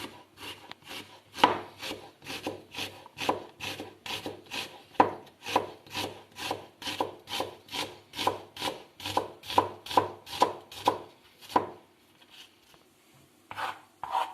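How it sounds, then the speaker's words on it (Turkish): A knife slices an onion rapidly and rhythmically on a cutting board, dozens of crisp, close strokes in a steady run before stopping. "Bunu piyazlık şekilde ince ince doğruyorum."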